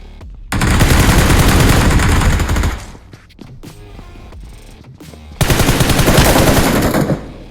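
Automatic rifle fire in BGMI (PUBG Mobile) gameplay, with an M416 among the weapons: two long, loud sustained bursts separated by a quieter stretch of scattered shots and clatter.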